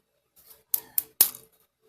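Crispy fried golgappa (panipuri) shells crack open in a rapid run of four sharp, brittle crunches within about a second, close up and with no voices.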